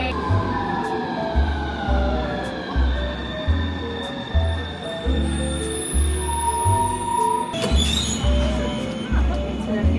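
A metro train pulling into a station platform in Milan, with loud rumbling and squealing wheels under a repeating chime-like tone and a sharp clatter near the end. A station announcement and people's voices run over it.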